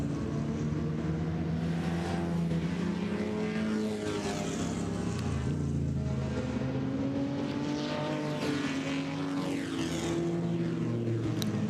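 Classic Aston Martin and Jaguar C-Type sports racing cars tear past at Le Mans Classic 2022, with a loud, continuous engine roar that rises and falls in pitch as they pass, and no talk.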